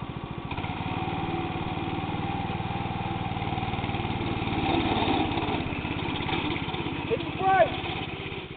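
Small buggy engine running steadily down a hill, a close, rapid putter that holds level with a slight surge near the end, while someone talks over it.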